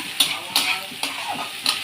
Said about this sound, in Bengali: এই মশলাটা দিয়ে এবার সুন্দর করে কষিয়ে নেব।